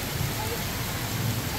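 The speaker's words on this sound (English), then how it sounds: "Yeah, it's raining." Steady rain during a thunderstorm at the Minnesota Zoo, a continuous outdoor hiss with low rumbling underneath, moderately faint.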